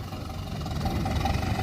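A Ford farm tractor idles with a steady, low mechanical rumble, loud and close, on a land-filling job site, with no talking over it.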